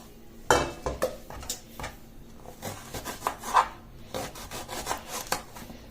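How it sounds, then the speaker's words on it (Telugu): Knife slicing raw banana into thick pieces for a tamarind gravy curry, with scattered scraping and tapping on a board and a few sharper knocks, close and quiet with no talking. "అలాగే మిగతాది కూడా కట్ చేసుకుందాము."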